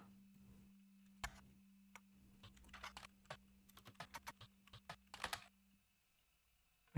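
Rapid typing on a computer keyboard, a run of close, crisp key clicks in uneven bursts over a low steady hum, ending in silence.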